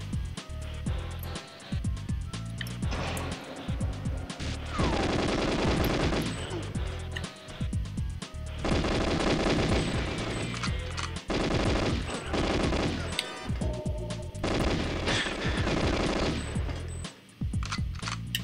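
Automatic weapons fire rattles in GoldenEye 64 on the Nintendo 64, in dense rapid bursts that repeat with brief pauses across the whole stretch. It is loud and continuous, with no talking.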